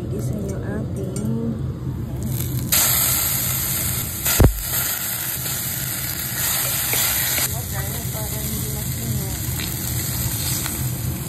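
Onion and garlic sautéing in oil as the base for a carp congee, a steady loud sizzle with scraping stirs and occasional clinks of a utensil against the pan, one sharp knock partway through.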